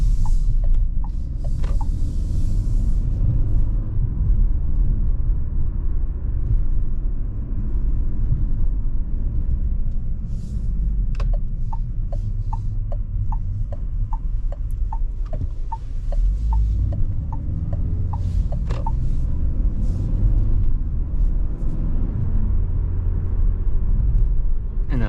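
A 2025 Renault Captur Esprit Alpine facelift with automatic transmission cruises at night, heard from inside as a steady low road rumble with a ticking indicator and occasional small cabin clicks, unbroken by speech.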